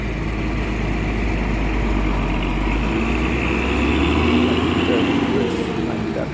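A Mercedes-Benz OH 1521 bus engine rumbles steadily with a deep, continuous drone, loud and close throughout, with a voice speaking over it.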